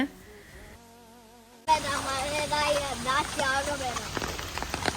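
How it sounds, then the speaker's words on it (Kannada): Heavy rain pours during a typhoon in China, a dense steady roar of drops on surfaces that surges in loudly after a quieter opening with some tonal sounds. "ಮಳೆ ಮತ್ತೆ ಜೋರಾಯಿತು"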